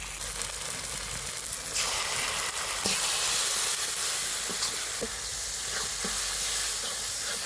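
Turmeric powder and chili paste sizzle and hiss in hot oil in a pan, a dense continuous frying noise with occasional sharp clicks of a spoon stirring, close and unbroken, with no voices.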